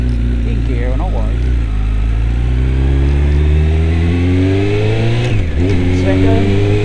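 A Honda Fireblade motorcycle pulls away and accelerates, its engine note rising steadily and loudly close by, with a brief dip around a gear change.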